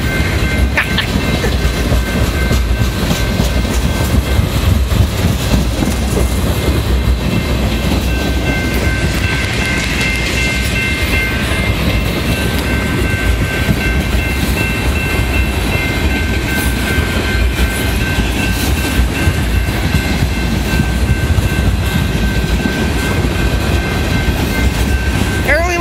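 Freight train with tank cars passing in Jewett on the Wheeling & Lake Erie and Ohio Central lines, a loud, sustained rumble with rhythmic wheel clatter and a faint metallic squeal, steady and close throughout.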